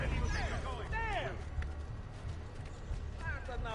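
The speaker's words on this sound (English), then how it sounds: "That's an outlandish horse." A horse gallops in the video game Assassin's Creed II, steady clip-clop hoofbeats running underneath shouted dialogue and a brief whinny-like cry, fairly close.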